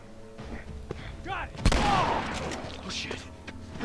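Ellie fires a gun in The Last of Us, one sharp loud report that rings out briefly amid game sounds, with scattered speech and effects around it.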